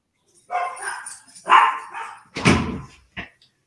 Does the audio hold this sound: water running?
no